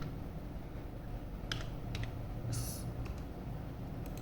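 Computer keys are tapped in a few quick, faint clicks spread over a couple of seconds against a quiet room hum.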